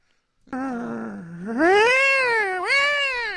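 A cat lets out a loud, drawn-out meow that rises into a long, wailing caterwaul, heard close and alone with no talking.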